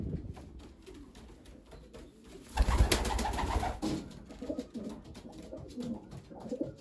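A racing pigeon coos softly up close in a loft, low throaty murmurs recurring through a quiet background, with a louder rustle or flutter in the middle.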